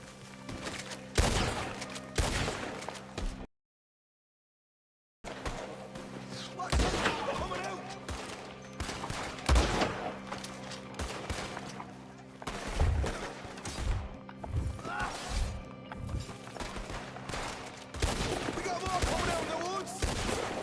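Repeated gunfire in the Red Dead Redemption 2 video game, with scattered shots and bursts over a continuous busy game soundtrack, plus voices speaking at times and one brief silent gap.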